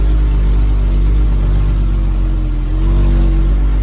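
An Isuzu NRR195 dump truck's diesel engine runs close by at a steady, loud idle with a deep, constant rumble and a slight rise in pitch partway through.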